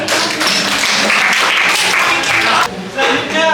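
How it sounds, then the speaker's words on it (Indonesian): Students in a classroom clap their hands together on a teacher's cue, a loud, close burst of uneven clapping with a brief dip near the end and a voice mixed in. "Oke, tepuk tangan."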